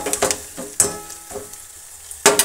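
Spices tempering in hot oil in a pan, frying until reddish: a steady close sizzle with a few sharper crackles and stirring clatters, the last near the end, with no talking.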